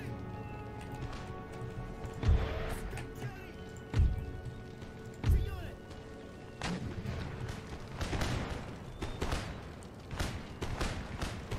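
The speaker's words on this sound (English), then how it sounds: "keep firing against the Ottomans, just to keep firing their cannons" Cannon artillery firing in the strategy video game Empire Total War, with three heavy low booms standing out and lighter distant shots and clatter continuing over a busy battlefield backdrop.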